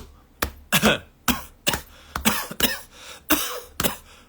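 A man coughs repeatedly with deep, chesty, phlegmy bursts, about eight sharp coughs in an irregular rhythm, close and loud, with no talk over them.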